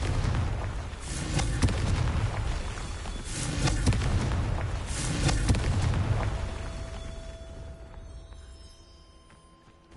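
Confringo fire spells exploding in Hogwarts Legacy on PS5, heard as a string of heavy booming blasts with rumbling tails over game ambience, fading toward the end.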